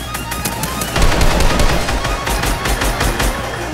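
Rapid bursts of automatic gunfire in a Fortnite match crackle continuously and loudly at close range, forming a dense rattling volley with no talking over it.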